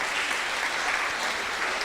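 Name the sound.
audience applause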